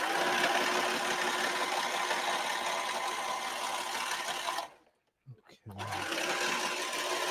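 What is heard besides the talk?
serger sewing machine running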